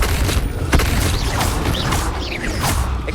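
A spell effect from Hogwarts Legacy, the wizarding video game: a continuous dense magical whoosh and rumble with a sharp crack near the start, loud and steady for about three seconds with no talk.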